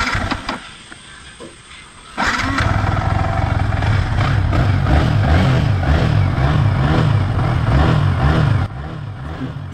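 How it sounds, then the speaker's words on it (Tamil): Yamaha R15 V3 motorcycle engine starting after two seconds of low background, then idling close by with a loud, steady, pulsing putter that drops back off near the end. "வண்டி ஸ்டார்ட் பண்ணி பார்த்தேன்"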